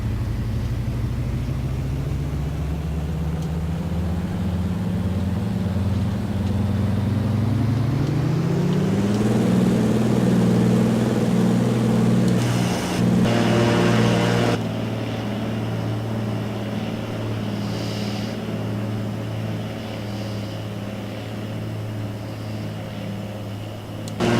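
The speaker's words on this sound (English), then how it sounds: "I'm going to go ahead and turn the sound back on and let everybody hear that for the takeoff" Radial-engine airplane taking off, a loud droning engine rising in pitch as power comes up, then holding a steady roaring note with propeller rumble as it accelerates.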